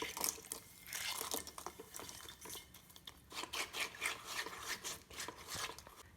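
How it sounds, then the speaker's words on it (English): A watery mix of sand and rocks is poured through a strainer, giving a close, trickling splash with gritty rubbing and scattered drips that runs unevenly throughout. "I'm going to pour this through the strainer, and we should be able to get catch all of the rocks"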